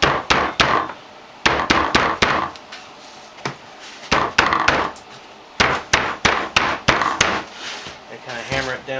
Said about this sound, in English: kind of hammer it down slowly.